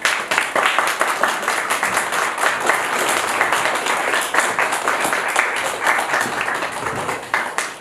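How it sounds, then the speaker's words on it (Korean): Congregation applauding at a Sunday church service, a steady dense patter of many hands clapping at moderate loudness for several seconds, with no talk over it. "나오실 때 하나님 박수 주십시오"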